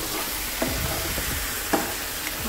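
Jaggery gets stirred into a simmering raw mango curry, with soft spoon scrapes and a few light clinks over a quiet, steady bubbling sizzle.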